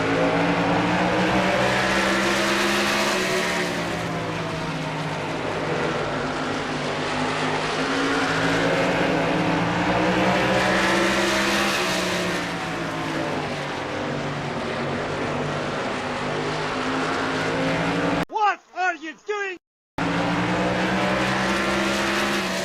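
A simulated ARCA race car engine from the NR2003 racing game on the Toledo oval drones loudly and continuously, its pitch rising and falling through the laps, broken by a brief cutout near the end.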